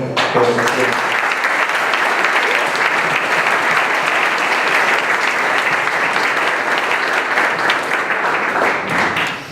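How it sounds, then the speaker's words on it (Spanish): Sustained, loud audience applause at an agricultural sustainability event, a dense wash of clapping that holds steady the whole time and tapers slightly at the end. "yo creo que podemos dar un aplauso más fuerte a todas estas personas"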